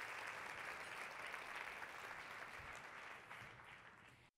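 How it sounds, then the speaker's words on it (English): Conference audience giving a sustained round of applause, dense and even clapping from a sizable crowd that carries steadily before cutting off abruptly. "Can we have one more big round of applause for Kate?"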